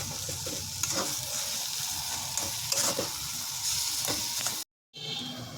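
Potato filling with tomato sauce is stirred in a frying pan, giving a steady close sizzle with repeated spatula scrapes and a brief silent gap near the end. No one talks.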